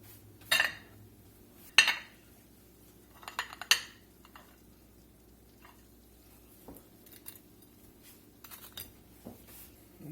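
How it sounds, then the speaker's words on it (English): Dishes and cutlery clinking while fried catfish is plated: several sharp clinks and scrapes at first, then quieter sporadic taps and soft handling noises against a faint background. "Let's plate up."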